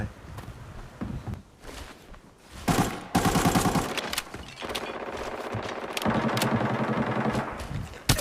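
Bursts of rapid gunfire erupt in Arena Breakout, with quiet gaps and footsteps between volleys, then sustained shooting that runs to the end.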